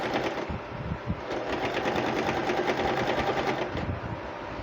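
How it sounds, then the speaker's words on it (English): Sewing machine stitches fabric for a turban cap, a steady, fast mechanical whir with a rapid needle rhythm that runs throughout, fairly loud and close, with no talk. "we are going to sew it all the way down"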